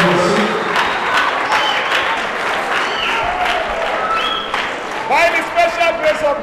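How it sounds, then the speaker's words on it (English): Church congregation clapping together during a service, loud and steady with voices and cheering mixed in over the top, then a shift to singing-like tones near the end. "Let's clap for Jesus."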